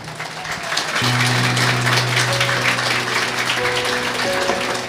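Applause from a church congregation, sustained clapping that fills the space at close range, with a low hum and tones underneath.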